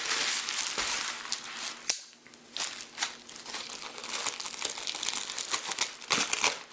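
Packaging around a tinted motorcycle windscreen for a Ducati is torn open, giving loud, close crinkling and crunching of plastic and cardboard with sharp rips throughout.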